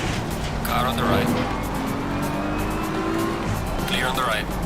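Race cars in Assetto Corsa Competizione, with one passing close on the right: a steady engine roar, tire noise and a rising whine as it draws alongside, under ongoing talk.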